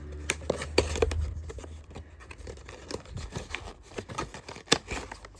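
Labubu blind box packaging from The Monsters Big into Energy set being opened, with quiet cardboard and plastic rustles, scrapes and a few sharp snaps or tears spread across a few seconds.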